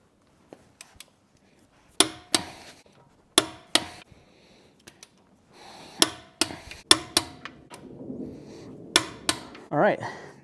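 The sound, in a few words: torque wrench tightening Tesla Model Y wheel lug nuts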